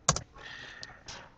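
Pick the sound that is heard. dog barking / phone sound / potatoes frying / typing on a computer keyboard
typing on a computer keyboard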